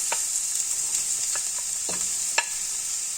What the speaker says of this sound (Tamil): அடுத்து நம்ம இதில் எடுத்து வச்சிருக்கிற வெங்காயத்தை இதில் நம்ம சேர்த்துக்கலாம்.